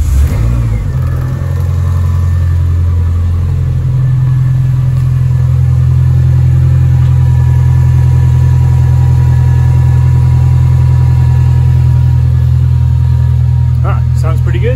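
A Renault Clio 172 starts up, its engine catching and settling into a steady, loud, close idle with a deep boomy drone that holds for over ten seconds.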